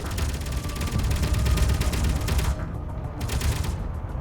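Turret weapons nicknamed meatballs fire in rapid, dense bursts in a Space Engineers Weaponcore battle, a loud continuous rattle of shots that drops out briefly and resumes in short volleys.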